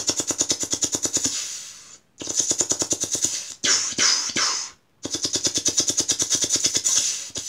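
Rapid automatic gunfire in loud sustained bursts with sharp evenly spaced reports, broken by short pauses and one gap of a different rushing blast, close and alone with no voices.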